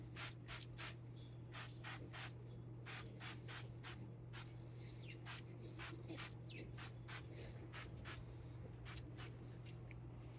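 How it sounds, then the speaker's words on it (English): Short bursts of duck fat cooking spray hiss in quick succession onto turkey skin, faint and close, over a constant low hum. "hit it with some duck fat spray and get that skin nice and crispy"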